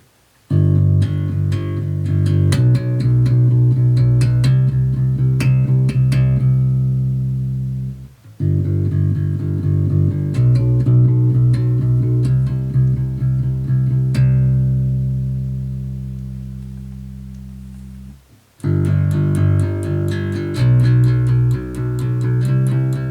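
Bass guitar through a SansAmp programmable bass preamp preset: sustained, resonant bass notes in three long phrases, each ringing out and decaying before a short gap, loud and alone with no voices.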